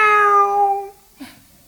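A human voice imitates a cat's meow as a playful cat laugh, one drawn-out tonal mew fading after about a second, followed by a faint short breathy sound, close and clear.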